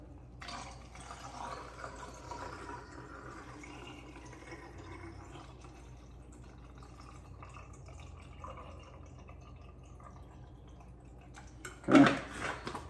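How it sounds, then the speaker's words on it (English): Photographic fixer poured at home into a film developing tank gives a faint, soft liquid trickle over a quiet room, ending with a brief, louder knock near the end. "Pour in the fixer."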